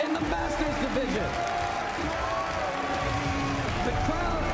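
The crowd at the Pokémon World Championships cheers and applauds loudly in a sustained roar, with a voice speaking over the noise.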